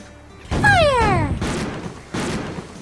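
A cartoon pirate cannon goes off in a kids' pirate video game: a heavy boom, then a second blast over a sliding whistle-like tone and game music.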